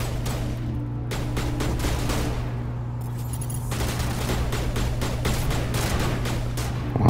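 Bursts of gunfire in Mass Effect on PS5 crack out in rapid fusillades, loud and close, with dense clusters of shots separated by brief lulls over a constant low hum.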